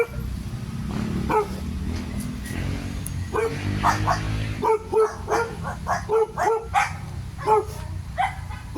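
A dog barks in a rapid string of sharp, close barks and yips that grow denser in the second half, after an opening stretch of engine rumble and background noise.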